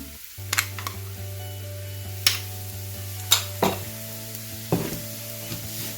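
Onion, ginger and grated coconut sauté in a pan with a soft, low sizzle, punctuated by several sharp scrapes and knocks of a spoon against the pan, close by over a steady hum.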